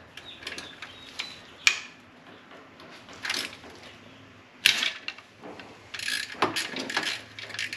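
A ratchet with an E-Torx socket loosens a chain guide bolt on a BMW M52/M54 engine during cylinder head removal, with bursts of close clicking ratchet strokes separated by pauses and a few sharp metallic knocks.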